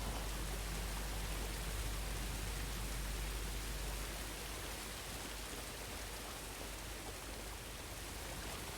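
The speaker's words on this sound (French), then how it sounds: "il y a cette putain de pluie, là, qui tombe" Steady rain falling from the ceiling inside an indoor area of the video game Star Wars Jedi Fallen Order, a constant faint hiss with no breaks.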